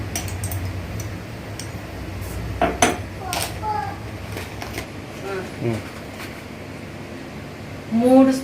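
Metal spoon clinks and taps sporadically while mustard seeds are measured in for homemade avakaya mango pickle, light clicks scattered under steady talking.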